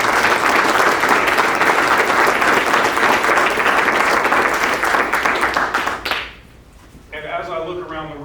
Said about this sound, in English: a round of applause and congratulations to these three who are doing it